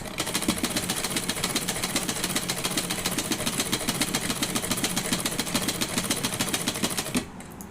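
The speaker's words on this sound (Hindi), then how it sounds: "इसमें आपको चून नहीं लगानी, डायरेक्ट सिलाई करनी है इस तरह से।" Sewing machine stitching fabric while making a gown from an old saree, a fast, steady mechanical rattle of the needle running continuously and close, stopping abruptly near the end.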